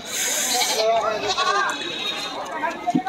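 Mother goats bleat at a muddy, rain-soaked livestock market, several calls close by, with voices talking over the crowd noise.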